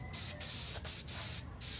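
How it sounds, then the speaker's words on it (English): Airbrush spraying phthalo blue paint through a stencil, several close, loud bursts of airy hiss separated by brief pauses. "Spraying through it here with a little phthalo blue, just to give it a simple drop shadow"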